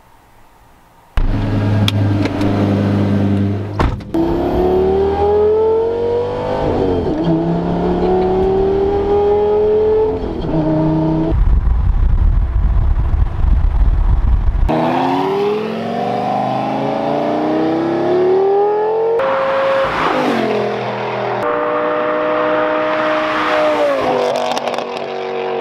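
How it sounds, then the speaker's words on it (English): A Lamborghini Gallardo fitted with a Fab Speed exhaust blasts past at full throttle, its loud engine rising through rapid gear changes and high revs, then fading and surging again as it passes close by. "I think that was my first time hearing the Gallardo full throttle go by me"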